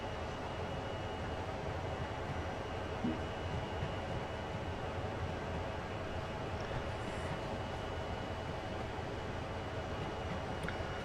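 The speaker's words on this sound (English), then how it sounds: "here you see on the map view the train backing up" Steady low rumble of a train backing up slowly in the game Train Sim World, a continuous mechanical drone with faint clanks, constant in loudness throughout.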